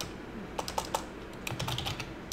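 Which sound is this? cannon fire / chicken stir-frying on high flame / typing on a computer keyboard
typing on a computer keyboard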